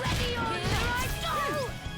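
Mercy Smash attack in the Bravely Default II battle, heard as a dense, sustained crashing impact effect with swooshing layers running throughout, loud and continuous.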